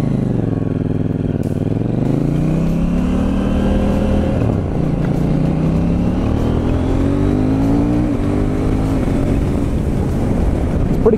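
A KTM 790 Duke or Triumph Street Triple 765 R motorcycle in sport mode accelerates hard from first gear, its loud engine note climbing steeply through gear changes with rising and falling pitch sweeps, continuous and close, with no voice over it.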